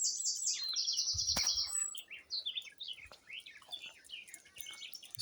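Wild birds sing outdoors, trading high chirps and quick descending calls at moderate distance, with one sharp louder call near the start and quiet gaps between phrases.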